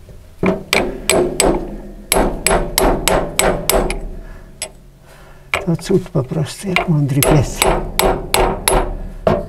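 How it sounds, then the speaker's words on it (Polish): Repeated hammer blows while a bearing is replaced in a grain mill, in sharp rhythmic bursts of quick ringing strikes with a short pause midway, as someone talks over the work. "Trzeba wziąć ciężejszy młoteczek."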